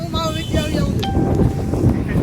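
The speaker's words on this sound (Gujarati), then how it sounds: "પવન ઉપડી ગયો છે" Strong wind blows across open farmland near a sugarcane field, a steady loud rumbling buffet against the microphone, with faint indistinct voices mixed in.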